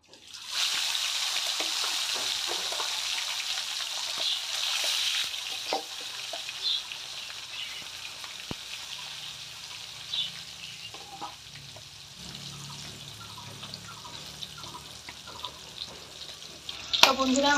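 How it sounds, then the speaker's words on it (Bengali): Catla fish pieces fry in oil in a kadai with a continuous hissing sizzle, punctuated by occasional clinks and stirring scrapes, with a voice briefly talking over it. "তো আমি এখন এক এক করে মাছ দিয়ে দেবো কড়াইতে"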